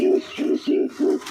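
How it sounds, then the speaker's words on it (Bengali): A female Giribaz pigeon coos in four low, rounded bursts at an even pulse, close and clear with short pauses between, and no talk. "এটা কিন্তু ভালো খেলা পায়রা"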